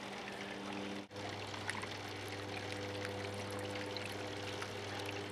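Water pours onto the end of a wick string in a tabletop aquaponic herb-garden setup, making a steady nearby trickling stream with one brief break early on.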